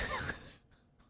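A single adult cough, close and fairly loud, sounding like someone briefly coughing or clearing their throat indoors, followed by near silence with faint breathy traces.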